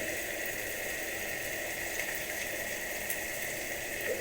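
Chicken in a poppy seed and coconut sauce simmers in a pan as a splash of coconut milk goes in, a continuous bubbling hiss that holds steady and fairly loud throughout.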